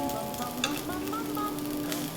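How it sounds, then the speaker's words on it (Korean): Food pan-fried with a light spray of oil, just crisping the surface: a steady, close crackling sizzle that runs the whole time, with faint tonal music underneath. "오일을 살짝 뿌려서 살짝 표면만 튀기듯이 해주는 거죠."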